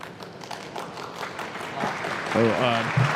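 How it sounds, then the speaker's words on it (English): Crowd applause fills a Muay Thai fight venue at the Fairtex ring as two fighters head into the bout, a steady wash of clapping and cheers with a loud voice calling out over it near the end. "Applause as we go into this"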